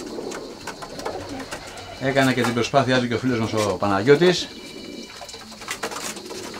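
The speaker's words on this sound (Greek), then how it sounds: "τα έκθεσε τα περιστέρια του, ντάλα καλοκαιριού" Pigeons cooing during a summer loft display, their repeated soft coos rising clearly above someone talking nearby, with faint background chatter before and after.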